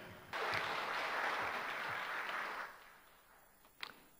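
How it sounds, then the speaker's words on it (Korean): Applause from a congregation at a church service, a burst of many hands clapping that starts abruptly, holds steady for a couple of seconds, then fades out, followed by a faint brief sound near the end. "저는 박수 치는 거 별로 안 좋아합니다."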